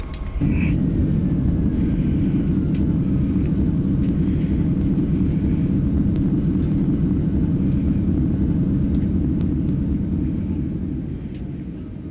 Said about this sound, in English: Good land. Reverse thrust.